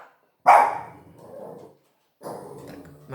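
A dog barking indoors at home, a sharp close bark followed by softer whimpering grumbles and then another bark, with a short quiet gap between them and no talking.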